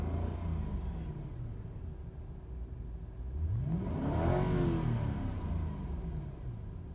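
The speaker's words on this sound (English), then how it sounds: "I think I'll just give the car a quick rev." The V8 engine of a 2002 Lexus LS430 in superb condition idles quietly, then a single smooth rev swells and falls away, heard close up with no talking.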